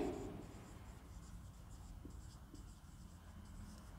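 A marker or chalk scratches across a board while a keyboard is drawn, giving soft, steady strokes with faint squeaks at close range in a quiet room.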